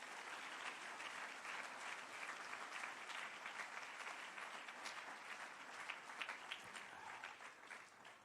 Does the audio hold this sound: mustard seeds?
no